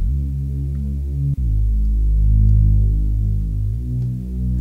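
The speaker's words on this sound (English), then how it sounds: "I think I have a preset there, which is like a Reese bass" A thick, droning Reese bass synth preset in Logic Pro X with a slow, throbbing movement, loud and sustained, briefly cutting out once before continuing.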